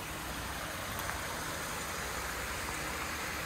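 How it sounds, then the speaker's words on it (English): A waterfall near Seward, Alaska, gives a steady, even broadband roar of rushing water that fills the whole stretch with no breaks or talking. "Here's another waterfall."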